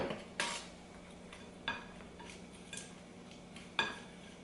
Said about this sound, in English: I'm just going to stir this together. I'm going to try and get all the lumps out of the brown sugar.